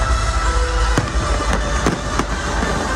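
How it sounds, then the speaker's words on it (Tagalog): Grand New Year 2026 countdown fireworks display at a city celebration, a loud crackling barrage with sharp booming bursts spaced about every half second over a dense continuous rumble. "Natapos naman ang countdown to 2026 sa engrandeng fireworks display."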